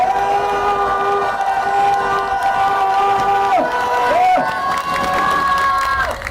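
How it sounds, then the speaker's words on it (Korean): A rally crowd on a street by Gangnam Station cheers and claps, a loud sustained roar with shouting voices rising and falling throughout, amplified voices blending into the din. "다시 한번 큰 박수와 함성을 보내주시기 바랍니다"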